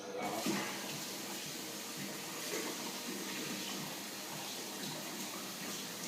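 Near-boiling hot water being poured out into a sink, a steady splashing gush running continuously at close range and moderate level for several seconds.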